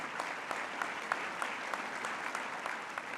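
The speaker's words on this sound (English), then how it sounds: "Give them a round of applause." Applause at a 2017 World Citizen award event in Charlotte, a modest crowd clapping steadily for a few seconds with individual claps audible, fairly distant and alone without talk.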